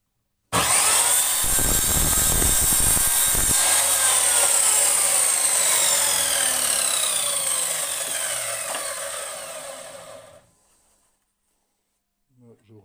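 A wooden cupboard door being cut with a power saw, a loud sustained whining cut lasting about ten seconds, close by, with a rough burst at the start, then winding down and stopping.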